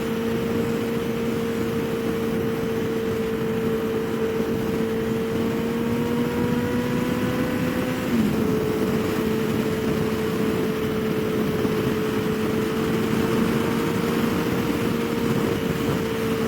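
A Kawasaki Ninja ZX14R motorcycle engine while riding at speed, a loud, steady droning tone that holds nearly constant with a slight pitch dip midway, under continuous wind rush and no talking.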